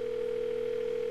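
A telephone in a horror video game is picked up, giving a steady, unbroken dial tone that holds at a constant level throughout, alone with no other sound.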